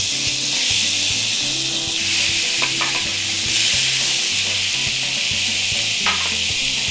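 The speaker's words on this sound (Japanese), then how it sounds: "お肉を焼いていきますね。" Beef searing in a pan with garlic cloves for a gluten-free beef stew, a loud continuous sizzle and hiss with a low steady hum underneath and a few faint clinks.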